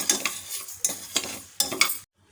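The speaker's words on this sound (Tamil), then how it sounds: "ஒரு ரெண்டு நிமிஷத்துக்கு மிதமான சூட்டிலே வறுத்துப்போம் இந்த மாதிரி பாசிப்பருப்பை வறுத்துட்டு பண்ணுறது வந்து நல்லா வாசனையாக இருக்கும்" Moong dal dry-roasts in a pan over medium heat for ven pongal, stirred in quick scraping bursts with a light rustling rattle of the lentils, close and distinct, then silence.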